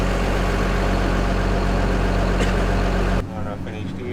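A farm sprayer's engine running in a paddock in South Australia, a loud, steady low-pitched drone with a constant hum that drops off abruptly near the end. A voice speaks briefly afterward.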